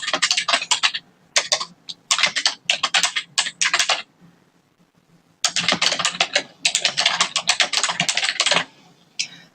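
Fast bursts of typing on a computer keyboard while writing in a Google Docs document, with brief pauses between runs of keystrokes, close and clear with no talking.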